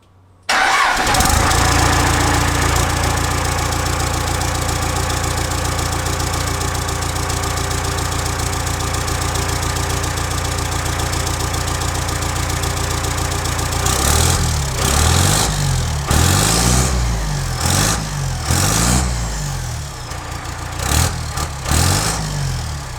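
A classic GMT400 truck engine cranks and fires, then settles into a loud, steady idle. Later the idle turns uneven, with rhythmic pulsing and surging revs.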